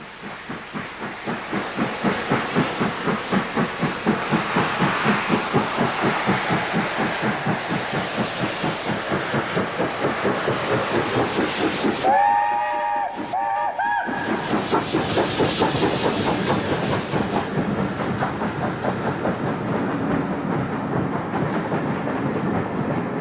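British Railways steam locomotive 70000 Britannia, built 1951, works hard on a test run with a steady, rapid exhaust beat and hiss, plus a brief whistle partway through, loud and close throughout.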